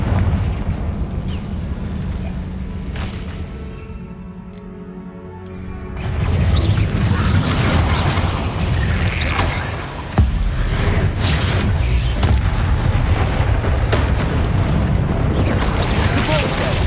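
In the Hogwarts Legacy video game, a Confringo fire spell bursts with a heavy boom about six seconds in, followed by rumbling debris and a second sharp hit, all over busy game effects.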